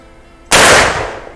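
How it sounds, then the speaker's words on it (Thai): A single loud, close gunshot from a Marlin 1894 lever-action rifle in .44 Magnum, fired at a target about 20 metres away: a sharp blast after a quiet lead-in, followed by a fading echo. "ยิงไปที่กึ่งกลางนะครับ X เลย ระยะประมาณ 20 เมตรนะครับ"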